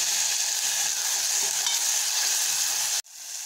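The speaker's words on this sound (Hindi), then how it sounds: "अब मैं डाल दे रही हूँ टमाटर।" Chopped tomatoes go into a hot pan of frying onion, garlic, ginger and green chillies, giving a loud, steady close sizzle that cuts off sharply near the end and then returns more softly.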